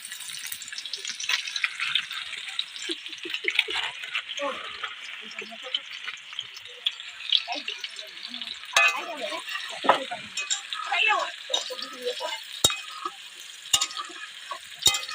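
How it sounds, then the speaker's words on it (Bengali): Onions and black cumin frying in oil, a soft continuous sizzle with scattered clinks and scrapes of stirring, and people talking now and then over it. "পেঁয়াজটা লাল লাল করে ভাজবো"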